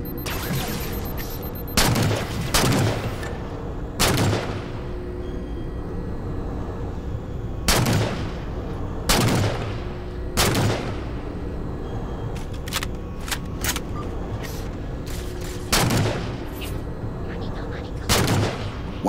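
Gunfire in the Halo 4 video game: sharp booming shots, some single and some in quick pairs, fire at irregular intervals over a steady rumble of background noise and ambience.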